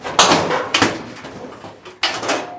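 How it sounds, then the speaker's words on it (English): Front door panel of a clothes dryer being removed: three separate bursts of clattering metal and rattling, each with a sharp start that fades, fairly loud and close, with no voices. "The whole door just comes off."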